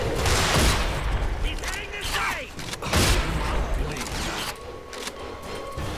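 Gunfire in the shooter game RAGE, with bursts of loud shots and rapid firing crashing in up close, mixed with clattering game effects.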